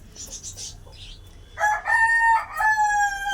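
A rooster crows loudly and close by, a long drawn-out call following a few softer clucks from chickens.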